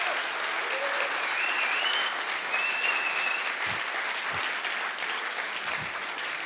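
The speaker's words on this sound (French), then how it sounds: "Ça mérite des applaudissements, ça, quand même." A keynote audience at a tech conference breaks into sustained, loud applause, a dense wash of clapping with a few faint whistles riding on top.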